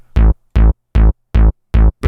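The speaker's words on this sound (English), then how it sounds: "I just did a very basic techno trance bass here" A basic techno trance bass sample from the Ubershell pack plays alone as five evenly spaced, loud booming notes in a driving push-pull rhythm, each short and heavy in the low end with gaps of silence between them.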